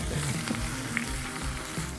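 Steak sizzles over glowing campfire coals at a campsite, a steady close crackling hiss with faint pops and scrapes and no voices.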